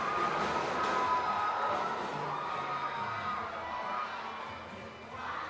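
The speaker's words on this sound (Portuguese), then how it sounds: "Vai fazer uma festa bonita a torcida." Crowd noise from supporters at an under-15 football final between São José and Trem, a broad continuous roar of cheering and shouting with youthful voices, steady and fairly loud throughout.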